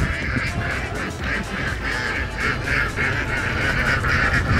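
A group of ducks at a zoo quacks continuously in a rapid, overlapping chorus, loud and close, over a noisy outdoor background.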